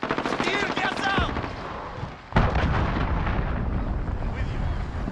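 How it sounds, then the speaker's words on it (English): In Call of Duty Vanguard, a cruise missile strikes with a sudden loud blast, then a long rumbling roar of explosions and debris. Voices call out just before the hit. "Enemy cruise missile incoming."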